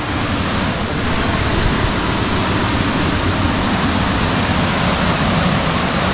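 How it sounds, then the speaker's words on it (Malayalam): A private waterfall swollen by recent rain at a homestay in Vagamon, Kerala, gives a loud, steady, broadband rush of foaming water, constant and close, with no voices. "നല്ല പതഞ്ഞൊഴുകുന്ന വെള്ളച്ചാട്ടം"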